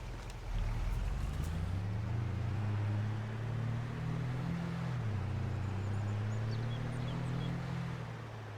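Truck engine in Farming Simulator 22 droning steadily at close range, pitch rising and falling as it accelerates and shifts, with a faint whistle near the end.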